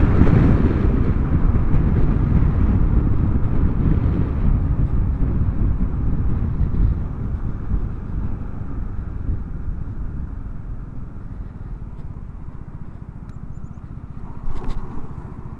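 Vespa scooter riding along toward a farm, a steady broad engine and road rumble with heavy wind buffeting, continuous and fairly loud throughout.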